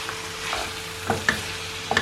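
Garlic pieces frying with liver pâté ingredients in a pan, stirred with a few soft utensil scrapes and light clinks over a low, steady sizzle; close and fairly quiet, with no talking.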